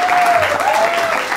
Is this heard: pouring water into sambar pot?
no